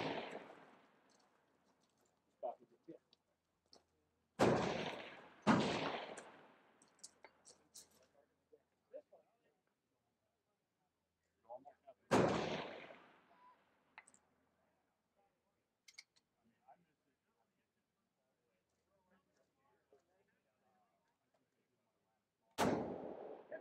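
Precision rifles fire at a shooting range in an open-air competition match, five sharp, loud reports spaced several seconds apart, each trailing a short echo, with faint voices and small noises in the quiet gaps.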